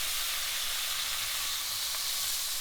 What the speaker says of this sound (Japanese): 火加減ですけども中火ぐらいでじっくりと焼いていきます。